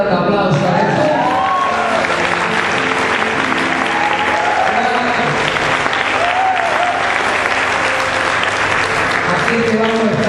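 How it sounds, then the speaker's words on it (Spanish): Church congregation applauding during a sermon: loud, dense, sustained applause lasting throughout, with voices and shouts rising over the clapping. "¿Cuántos me pueden dar un aplauso a eso?"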